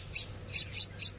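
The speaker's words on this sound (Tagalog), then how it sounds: "May ibon. Hindi natin kung anong klaseng ibon yun." A small bird at a pet shop gives four sharp, high chirps in an uneven rhythm, close and clear against a faint low hum.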